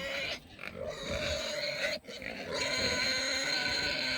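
Pig grunting and snuffling up close in a pig pen, a stretch of rough, breathy grunts with a brief pause, amid outdoor background noise.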